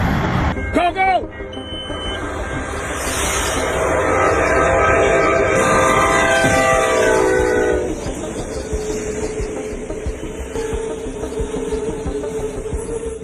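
A train rumbles past close by, its horn sounding early on, with rolling wheel clatter and rushing noise that gradually eases toward the end.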